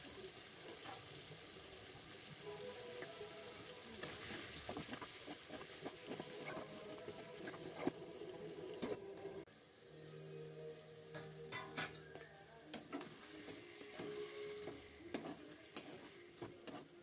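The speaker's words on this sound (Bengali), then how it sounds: "চিকেনটা দিয়ে দিলাম, খুব ভালোভাবে কষাবো, ঢাকা দিয়ে দিয়ে সময় নিয়ে কষাবো।" Chicken sautéed in a pan for kosha, with soft stirring scrapes and a low sizzle, fairly quiet and close, with occasional light clinks.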